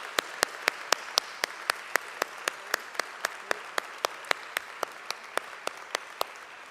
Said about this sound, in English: So a warm applause.